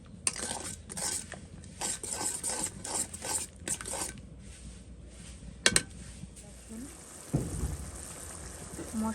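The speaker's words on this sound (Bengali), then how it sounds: "এটাকে ভালো করে একটু কষিয়ে নেব যতক্ষণ মশলা থেকে তেলটা না ছাড়তেছে" Spice paste being stirred and fried in a pan with a metal spoon, giving repeated scraping and clinking strokes over a soft sizzle, fairly close, with a few sharper knocks partway through.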